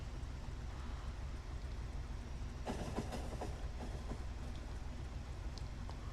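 A steady rumbling hum of a moving train in the video game Factorio, with a short burst of clattering and rattling partway through, no voices.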